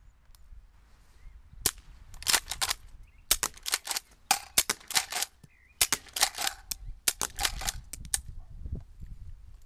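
A PPS XM26 shell-ejecting airsoft shotgun fires a sequence of sharp, snappy cracks in irregular bursts, fairly close and without talk, with short quiet gaps between shots.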